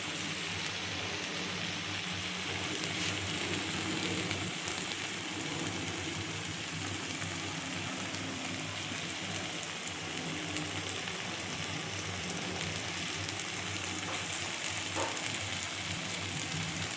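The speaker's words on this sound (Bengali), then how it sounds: "মশলাটা কিন্তু ভালো করে কষাতে হবে যতক্ষণ না তেলটা ছাড়ছে" Spiced masala frying in hot oil gives off a steady, close sizzle and crackle that runs unbroken throughout, with no voices over it.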